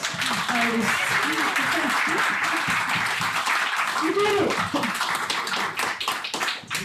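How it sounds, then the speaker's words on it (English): Audience applause after an exhibition put together in ten days, a dense steady patter of many hands lasting throughout, with a voice speaking over it. "give yourselves a round of applause"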